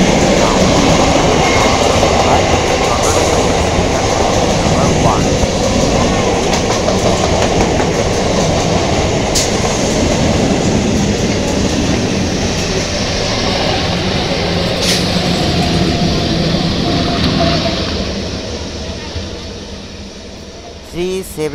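Trains passing through Chandannagar railway station: a continuous loud rumble with clickety-clack of wheels over rail joints, occasional squeals and brief horn-like tones, with voices and station noise in the background, fading slightly near the end.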